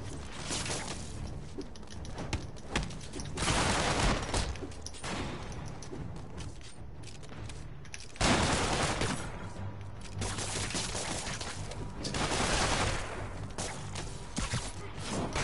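Gunfire in a Spider-Man video game amid a chaotic fight: dense bursts of shots and mechanical clatter surging and fading over about fifteen seconds, loud and continuous.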